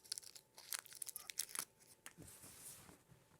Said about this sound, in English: Let me unwrap it.